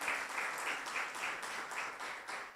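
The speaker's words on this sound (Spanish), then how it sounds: "Si es un aplauso, déselo al Señor" Congregation applause during a Spanish-language church service: moderately quiet, sustained clapping from many hands, pulsing in soft waves throughout the clip.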